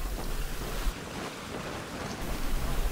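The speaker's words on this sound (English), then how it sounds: "The wind bellows in our ears as we move through the strait's funnel and out towards the open ocean." Wind and waves while sailing out under the Golden Gate Bridge through the strait toward open ocean, a loud constant rush of gusting wind buffeting the microphone over washing water.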